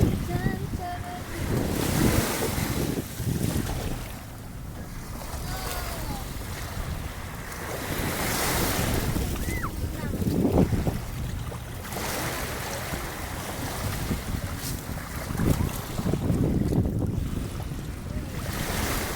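Surf rolls in along Manila Bay beach with wind buffeting the microphone, waves washing in repeated swells under a constant rushing gust for the whole stretch.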